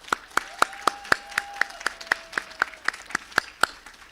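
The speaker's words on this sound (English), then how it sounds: "Give them a round of applause." Sharp claps at a university graduation ceremony land in a steady rhythm, one roughly every quarter second, fairly close and distinct rather than a dense crowd roar.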